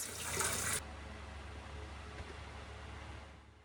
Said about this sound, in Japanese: お昼のシャワーも気持ちがいい。 景色を見ながら熱いシャワーを楽しみます。